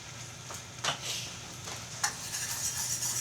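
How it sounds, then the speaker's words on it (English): A spoon stirs thick enchilada sauce in a pan, faint soft scraping strokes with a couple of light clinks against the pan over a quiet low hum. "You want to stir it in and see how nice and thick the sauce is getting."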